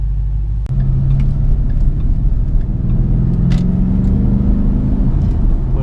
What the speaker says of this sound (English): It's got a great exhaust note to it.